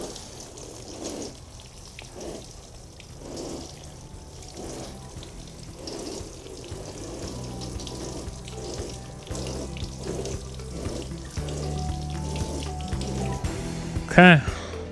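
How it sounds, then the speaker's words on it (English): A garden hose fitted with a pressure reducer sprays a gentle, even stream over seed trays on a farm, a steady watery patter with soft splashes and a person talking over it. "So I just try to get it adjusted to make sure I get just a gentle stream on it. So just a nice even watering."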